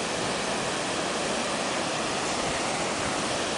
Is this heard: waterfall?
yes